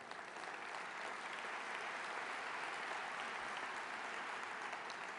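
Sustained applause from a large audience at a talk, honoring the interpreters; a dense, even wash of many hands clapping that fills the whole stretch without letup or voices.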